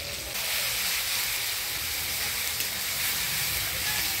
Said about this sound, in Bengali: এবারে দিয়ে দিচ্ছি ধনিয়া, জিরা, আদা, রসুন বাটা, লঙ্কা বাটা, হলুদের গুঁড়া, স্বাদ মতো লবণ